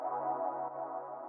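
A synth sample run through the Devastor distortion plugin sounds as one steady, faint, buzzy tone, held with its low end cut, and no talking.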